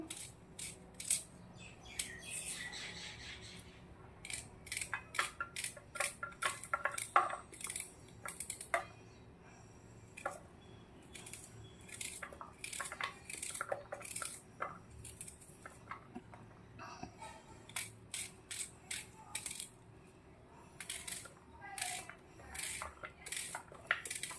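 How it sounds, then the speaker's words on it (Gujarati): A knife chops peeled onion on a board for a dahi arbi (taro in yogurt) curry: quick, irregular runs of sharp taps and knocks, close and fairly quiet, with short pauses between bursts and no talking. "હવે આપણે ડુંગળી છોલી રાખી છે ડુંગળીને સમાર દઈશું"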